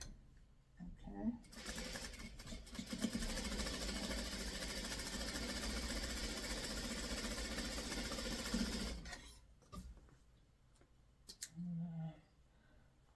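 A sewing machine stitches pre-cut quilt fabric pieces for a tiny house block in one steady, fast run of about seven seconds, with quiet handling noises before and after.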